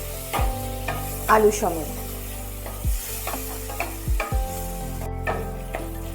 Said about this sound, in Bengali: টমেটো দিয়ে তেলের মধ্যে ভালোভাবে কষাতে হবে